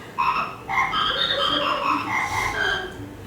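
A voice imitates a frog croaking during a storytelling workshop, giving a run of rhythmic nasal croaks, fairly close and clear, with no other talk.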